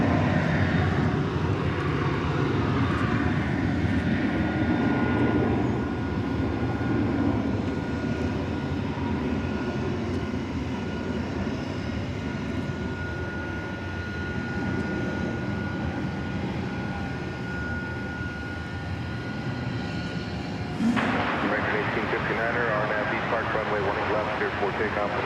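An American Airlines Boeing 737-800 takes off from DFW Airport, a steady distant jet roar sustained throughout, with a voice talking over it and a sharper shift in the noise near the end.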